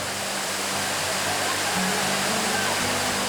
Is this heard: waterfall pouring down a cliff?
yes